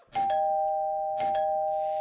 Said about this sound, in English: Which doorbell's that?